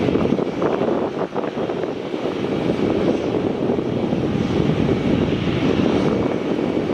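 A China Southern airliner idles at Melbourne Airport ahead of taxiing, its engine a steady, loud broadband roar and hiss with some wind noise, constant throughout.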